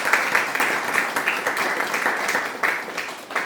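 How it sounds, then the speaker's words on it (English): A crowd applauds steadily with dense, continuous clapping that swells in short bursts throughout, fairly close and loud. "So big applause"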